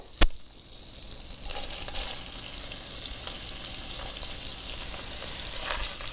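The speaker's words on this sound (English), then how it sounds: "To that, we'll add our onion now. As you recall, I have a half cup Vidalia onion. Add this in." Chopped Vidalia onion hits a buttered pan with a brief thump, then sizzles steadily and fairly loud for several seconds, with a few stirring scrapes and no talking.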